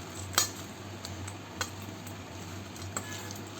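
A spoon stirs masala papad chaat with crispy papad pieces and peanuts in a bowl, giving a few sharp metallic clinks against a soft rustling mix, quiet and close with no talk.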